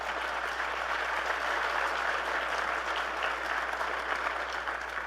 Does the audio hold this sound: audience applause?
yes